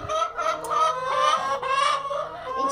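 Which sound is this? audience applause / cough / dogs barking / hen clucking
hen clucking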